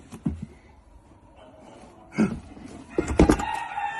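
A rooster crows from a bucket in a Halloween setting, with a short clucking burst at first, then a louder drawn-out crow, then a last strong crow close by and alone.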